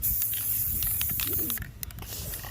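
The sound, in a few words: spraying black spray paint on a custom keyboard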